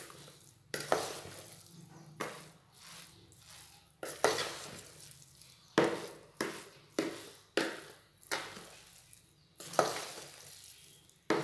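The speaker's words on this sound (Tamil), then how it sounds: "அப்படியே ஹாட் பாக்ஸ் மாற்றிட்டு நல்லா கிளறி வச்சுக்கோங்க" Cooked coconut-milk tomato rice is stirred in a hot box with a spoon, giving repeated rhythmic scraping and clinking strokes about once a second, close and fairly soft.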